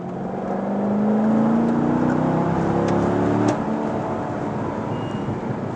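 A car engine loud and close from inside, its pitch climbing under acceleration, then a sudden break and drop as a gear changes before it pulls steadily again, with road whir beneath.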